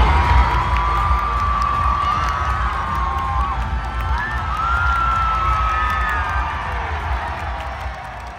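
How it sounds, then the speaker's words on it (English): A crowd cheers on a race, sustained shouting and whooping from many voices, including children, holding steady at a loud level across the whole stretch. "we will cheer them on"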